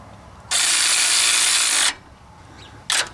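An AC Delco 12V electric ratchet wrench with a 6-point socket tightens a bolt: one loud, buzzing whir runs about a second and a half, then a short second burst follows, close up with no talking.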